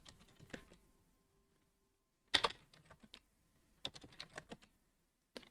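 Typing on a computer keyboard while setting a root password on Arch Linux comes as short bursts of nearby key clicks, with quiet pauses between the groups of keystrokes.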